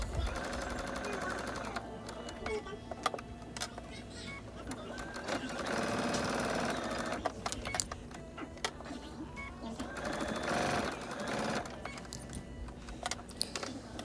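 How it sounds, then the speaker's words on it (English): A sewing machine sews a line on a quilted shop-hop apron in short bursts of stitching, separated by pauses, small clicks and handling noises, with a person talking in between. "And then I'm just going to go ahead and sew along that line."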